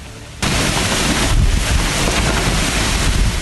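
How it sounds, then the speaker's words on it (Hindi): Stormy wind and heavy rain lash Mumbai during a monsoon downpour, a loud, steady roar of gusts and rainfall that surges in abruptly after a quieter start and keeps going with no speech. "तूफानी बारिश से पानी पानी हुई मुंबई।"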